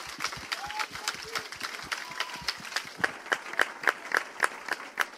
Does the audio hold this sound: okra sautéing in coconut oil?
no